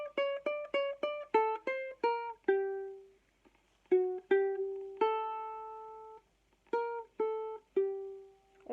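Ukulele plucks an easy version of a Beethoven melody, quiet and close, with quick repeated notes and then longer ringing tones separated by brief pauses.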